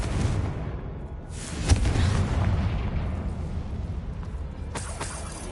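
Confringo fire spell blasts in the Hogwarts Legacy video game, a loud booming burst around two seconds with rumbling aftermath, followed by another sharp burst near the end, over continuous low game rumble.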